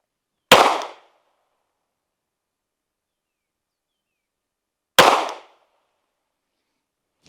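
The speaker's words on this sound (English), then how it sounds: "my goal is to get all 3 shots within that orange sticker" Pistol shots fired at a target during tactical training: two sharp, loud cracks about four and a half seconds apart, each followed by a brief decay, with a third shot starting at the very end. No talking.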